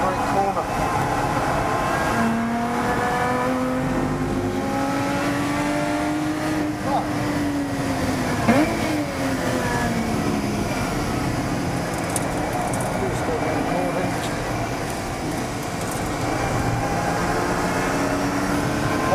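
A Lotus Exige Cup 430 engine drones loudly inside the cabin at speed on a race circuit, its pitch rising and falling through gear changes, while someone talks over the noise throughout.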